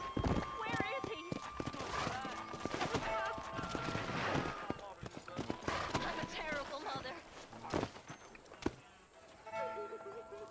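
A horse's hooves clop in Red Dead Redemption, irregular clip-clop steps and a few snorts mixed with sharp game sound effects, with someone speaking over much of it.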